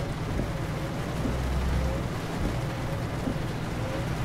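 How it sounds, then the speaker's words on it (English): Steady rain falling in Euro Truck Simulator 2 while driving a truck near a ferry port, a continuous wash of drops over a low engine rumble, with no voices. "Wow, it just keeps on raining."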